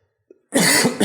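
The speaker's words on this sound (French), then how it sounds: "Pardon, je tousse." A faint little sound, then one harsh, close cough that breaks into a second rough burst.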